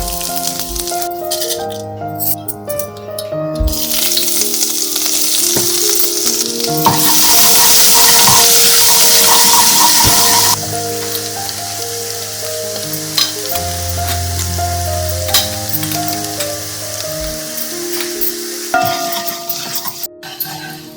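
Garlic, onion and spices for a kadhi tempering sizzle and crackle steadily in hot oil, swelling louder for a few seconds midway, with soft background music throughout.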